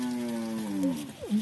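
A carabao (water buffalo) moos with a long, steady low call that bends upward at the end, followed by a second short lowing, close and fairly loud with no talk.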